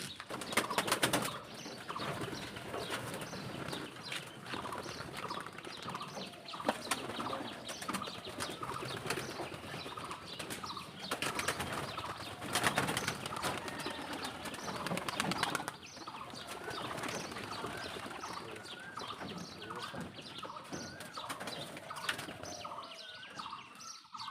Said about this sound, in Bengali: এখন আমরা কবুতরগুলোকে রিলিজ করে দেব